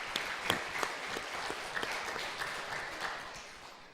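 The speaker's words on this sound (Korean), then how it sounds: "박수 한 번 더 쳐주십시오." Applause from a congregation during a church service, steady scattered clapping of moderate loudness with a few sharper individual claps standing out, no voices over it.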